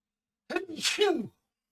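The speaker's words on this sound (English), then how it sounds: "I had to sneeze" One sharp sneeze up close, a quick inhaled catch followed by a forceful burst, alone against silence.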